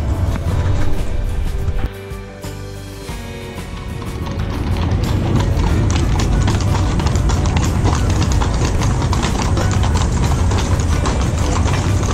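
Horses' hooves clip-clop on hard ground at the Jerez de la Frontera stallion depot, a steady stream of loud, close hoofbeats over dense crowd and outdoor noise, briefly dipping before resuming.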